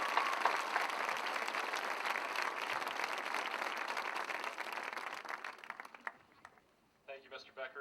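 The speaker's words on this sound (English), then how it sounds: "Please give a round of applause to these graduates." Steady audience applause for high school graduates at the 2010 Fairfield, Iowa graduation ceremony, a broad wash of clapping that fades out near the end before brief speech.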